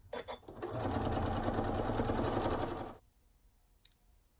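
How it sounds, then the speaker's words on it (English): A sewing machine stitches binding onto a scrap quilt in one quiet, even run of about two and a half seconds, followed by near silence. "I've gone ahead and I've sewn all the binding on the back, or on the front"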